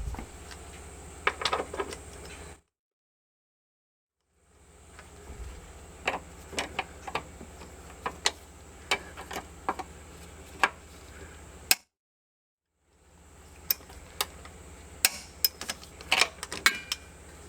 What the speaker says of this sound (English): we'll go switch over to our torque wrench and we'll torque it down too